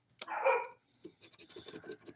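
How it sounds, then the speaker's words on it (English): A dog lets out one loud, close bark, followed by a string of softer, quick yips and whimpers in a quiet room. "Sorry about the dogs barking"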